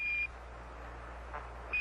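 The Apollo 11 lunar module's 1201 program alarm during descent, a steady high-pitched tone heard through a noisy radio link, sounding at the start and again briefly at the end.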